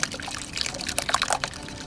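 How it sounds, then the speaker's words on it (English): A strawberry jammy mixture for panna cotta pours and trickles from a container, a close, wet, gurgling stream with small splashes lasting a couple of seconds. "Now I'm gonna pour in that jammy mixture"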